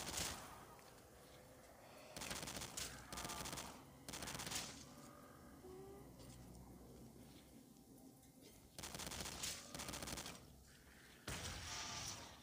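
Shotgun fire in Call of Duty Mobile Zombies: five distinct short, booming bursts spaced across the stretch, with quieter game ambience and faint activity in the gaps, fairly low overall level.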